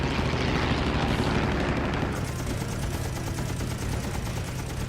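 Aircraft machine guns firing during a World War II dogfight involving Flying Tigers fighters and a Japanese Oscar, a dense continuous rattling burst over roaring engine noise, loud and sustained for several seconds.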